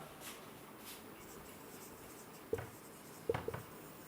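Writing on a board during an English grammar lecture: quiet scratchy strokes with a few sharp taps, faint and close, with no talking.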